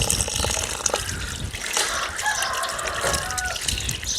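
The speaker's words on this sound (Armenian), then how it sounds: "մաքուր ջուր, զուլալ ջուր" Clear spring water runs steadily from a village fountain in Azatek, a continuous gushing splash, close and fairly loud, with faint voices in the background.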